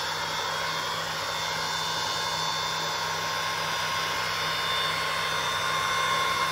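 A Valley X-Tec center-pivot irrigator in an apple orchard runs at its full 136 RPM high speed, giving a steady, continuous mechanical drone and whine with a constant hum underneath, no talk.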